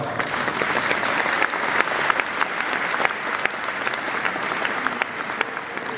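Steady applause from an audience at a New Year's greetings event held in a wine cellar in Sète, many hands clapping densely and evenly throughout with no break.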